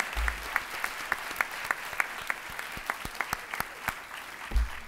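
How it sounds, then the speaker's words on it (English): Audience applause for university employees at the Albany State University Founder's Day Convocation, with sparse, scattered claps and a few louder ones standing out against a soft background of clapping throughout. "Can we please give a round of applause to these awesome employees?"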